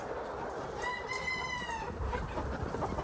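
A laying hen on a farm lets out one drawn-out, rising cackle in the middle of the clip, close by, over a steady background hum with no talking.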